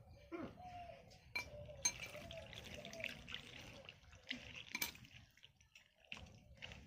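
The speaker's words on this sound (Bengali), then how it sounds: "এবার এর মধ্যে আমি ঠান্ডা জল পরিমাণ মতো দিচ্ছি।" Cold water is poured into batter for sugar-free patishapta pitha, giving a quiet trickle with light clinks and taps of a bowl and utensils, close by and with no talking.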